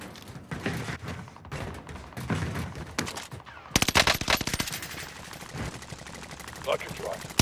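Rapid bursts of automatic gunfire in a Call of Duty Warzone match on the Caldera map, crackling close and loud in tight clusters, with players talking over the shooting throughout.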